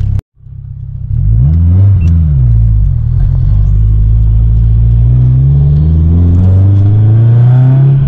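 A turbocharged Subaru STI accelerates hard through the gears, its engine roaring loud and close with a rising, droning pitch after a brief gap at the start.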